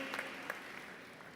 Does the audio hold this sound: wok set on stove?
no